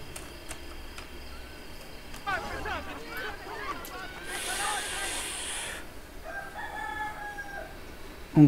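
A rooster crows in the Assassin's Creed Brotherhood game, a moderately loud rising call that is half-buried in rustling ambient game noise and hiss, with a few faint tonal chirps afterward.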